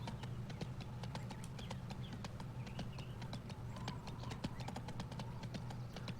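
Horse hooves clip-clop in a steady, brisk rhythm while riding in the video game Go Vacation, the clear repeated hoofbeats sitting over continuous game ambience and music, with no talking.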